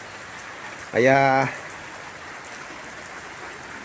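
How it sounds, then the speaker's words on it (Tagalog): Rain falls steadily on the fourth straight day of wet weather, a constant broad hiss filling the background while a person briefly speaks one word over it. "Kayo Sabado 4 na araw na po yung ulan."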